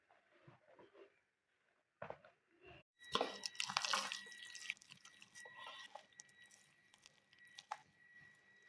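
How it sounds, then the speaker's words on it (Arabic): Hands kneading Palestinian ka'ak dough just after water is poured in, with wet squelching and sticky slapping sounds. A few soft, sparse touches come first, then steadier, close squishing continues against a faint steady hum. "حطينا المي، بدنا نبلش نعجن"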